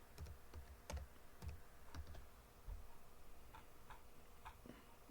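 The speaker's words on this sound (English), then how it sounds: "We're going to type in DOSBox." Quiet clicks of typing on a computer keyboard, sparse irregular keystrokes close by with short pauses between bursts, no speech over them.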